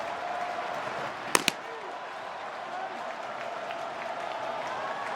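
A baseball crowd at Citizens Bank Park, Philadelphia, keeps up a steady wash of noise during a Dodgers–Phillies playoff game, with two sharp claps or bangs standing out briefly.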